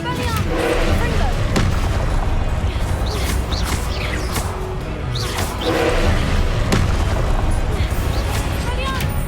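Confringo spell blasts in Hogwarts Legacy, cast in rapid succession during combat: a string of sharp, loud bursts spaced a second or two apart, with busy spell effects and a voice speaking over them.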